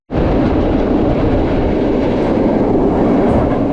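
A historic train rumbling through a pitch-black tunnel in Poland's Owl Mountains, a loud, constant enclosed roar of wheels and carriages with faint rhythmic clatter, no voices.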